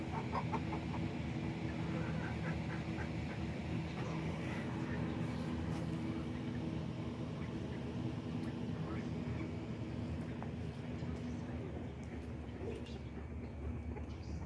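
Backyard chickens cluck softly and intermittently as they settle into a new coop, fairly quiet against a steady background hum, with a person talking at times.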